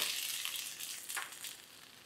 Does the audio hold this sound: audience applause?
no